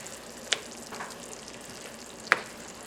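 Beans are stirred into a pot of three bean vegan chili over a soft simmering sizzle, with two sharp spoon clinks against the pot.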